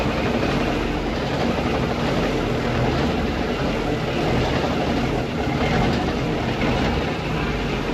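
A 1972 Brockway 358 truck with new 444 rear gears pulls away in second gear, its engine a loud, dense, close-up drone that holds steady throughout.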